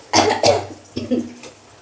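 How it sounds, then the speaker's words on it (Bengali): Three sharp, close coughs in quick succession, the last one softer and trailing off. "আমি বেশি কথাও বলতে পারছি না কাশি উঠে যাচ্ছে"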